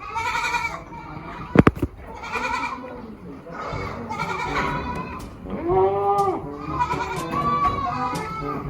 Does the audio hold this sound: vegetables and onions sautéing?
no